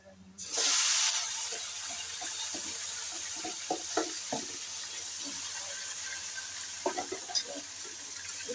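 Raw chicken pieces drop into hot oil with onions for a chicken biryani and set off a sudden loud sizzle, which settles into a steady hiss with scattered pops and spoon scrapes.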